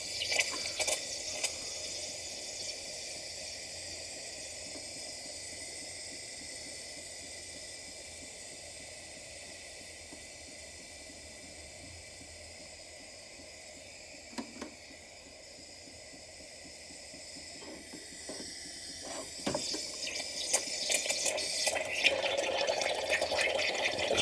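Milk steams and bubbles for a cappuccino with a soft, continuous hiss and gurgle. It stays quiet through the middle and grows louder and rougher near the end.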